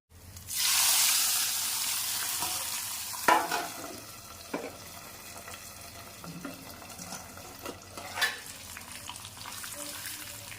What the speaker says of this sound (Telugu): ఇప్పుడు ఈ పోపుని పప్పులో పెట్టుకుందాం.